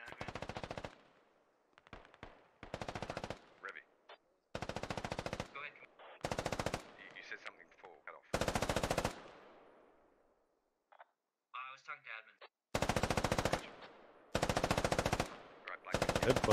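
Automatic gunfire in a tactical military shooter game comes in loud, sharp bursts, several long sustained volleys separated by silent gaps, with faint radio chatter between them.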